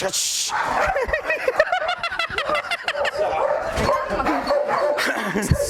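Dog at a farm where Malinois are kept, barking repeatedly in quick yips and barks, close and loud, with someone talking over it.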